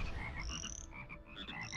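Frogs croak in the artillery video game ShellShock Live, a loud run of repeated croaks over a rumbling game background, with no talking.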